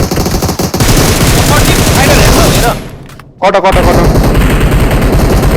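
Rapid automatic gunfire in a shooter video game crackles in loud, close bursts that cut out briefly midway before resuming, with a voice speaking in between.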